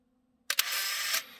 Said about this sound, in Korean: 셀프 타이머는 이렇게 누르고 있으면은 뭐 표시되는 건 없지만은 10초 후에 촬영이 된다는 거